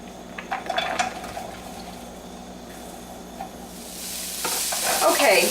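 Carrots and broccoli stir-frying in sesame oil, starting with utensil clinks and scraping in the pan, then a sizzle that swells louder toward the end as the vegetables hit the heat.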